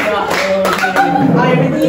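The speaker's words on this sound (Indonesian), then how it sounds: "Oke, tepuk tangan" Group hand clapping from students in a high school group guidance session, a short burst of brisk claps mixed with voices and chatter.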